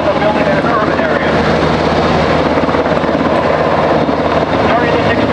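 A helicopter hovers overhead during a special operations exercise demonstration in Tampa, Florida, as personnel are extracted by rope, giving a steady, loud, dense rotor and engine roar that continues unbroken throughout.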